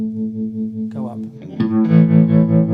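An electric guitar runs through a Source Audio Vertigo tremolo pedal set to deep depth, its sustained chords pulsing in strong, regular volume swells, loud and close with no talking.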